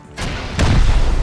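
A rocket launcher is fired at a base in Rust: a sharp launch thump, then a heavier booming blast that rolls on with low rumble, close and loud, with no talking.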